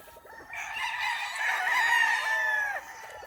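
A Boston Roundhead gamefowl stag crows once on a game farm, giving a loud, near, drawn-out cock-a-doodle-doo that rises and then breaks off, with no talk over it.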